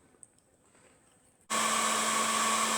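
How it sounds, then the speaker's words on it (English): Heat gun switches on abruptly after a quiet moment, then blows with a loud, steady whirring hiss and fan drone while warming a cast iron BSA Bantam motorcycle barrel in a workshop. "we've got the heat gun on it. Just trying to get the chill off the cast iron"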